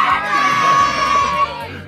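Loud, sustained screaming and shouting from a group of children inside a public library, a dense crowd-like roar lasting the whole moment before it drops off sharply near the end.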